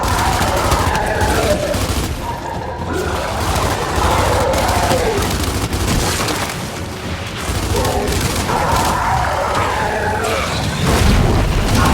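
Frag grenade blasts and rapid gunfire in the video game Gears of War 5, loud, dense bursts of booms and shots continuing throughout the battle.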